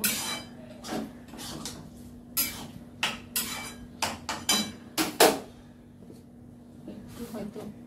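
Boiled peas are stirred in a pan on a home balcony, with a metal spoon scraping and knocking against the pan in a run of sharp, irregular clanks up close and a low hum underneath.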